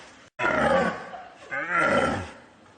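A man imitates the deep bellow of an old rutting red deer stag, two long, loud roaring calls close by, separated by a brief pause.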